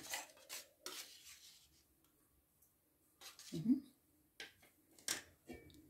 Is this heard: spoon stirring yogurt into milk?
yes